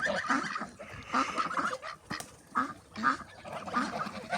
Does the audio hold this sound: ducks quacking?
yes